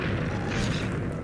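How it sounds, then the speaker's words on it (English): Fireball explosions in Minecraft Beta 1.7.3 in the Nether, a dense continuous rumble of overlapping booms with no gaps, loud and close. "I can't speak over all of these explosions"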